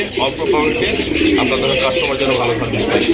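Pigeons at a bird market, sold as Indian breeding pairs, coo steadily and close by amid crowded market chatter and voices talking throughout.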